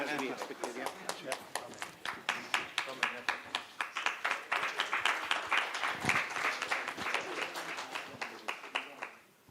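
Audience at an audit workshop applauding, a dense run of hand claps that swells, holds for several seconds and then fades out at the end.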